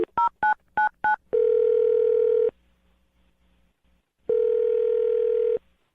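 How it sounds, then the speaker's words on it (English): A landline telephone gives four quick dialing tone bursts, then a steady dial tone, a pause, and another sustained tone, heard clearly with no talking. "I'll dial the phone number right now,"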